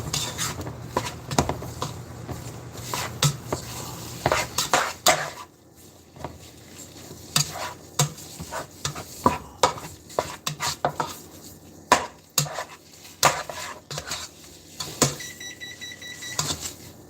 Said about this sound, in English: Get this all stirred up here.